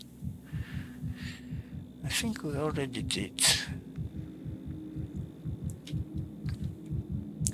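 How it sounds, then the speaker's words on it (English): A rapid, thumping heartbeat pulses steadily throughout a patient examination in the video game Pathologic 3, while a voice speaks briefly over it. "Heartbeat too fast, but that can be a case of personal trait."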